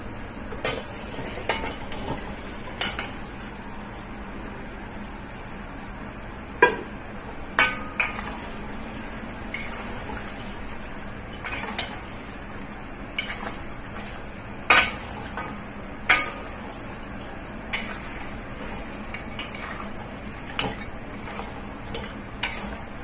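Pork ribs adobo being stirred in a pot: a low simmering bubble beneath intermittent metallic scrapes and sharp clinks of a utensil against the pot, spaced irregularly over a long stretch, close by and without talk.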